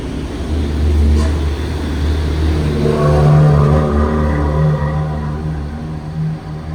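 A coach bus's engine idles and revs nearby, a deep steady rumble with rising tonal whine as it pulls in.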